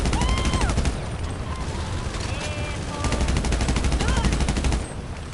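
Rapid continuous minigun fire in GTA V, a loud, dense rattling burst running through nearly the whole stretch, with a brief dip and slight drop-off near the end.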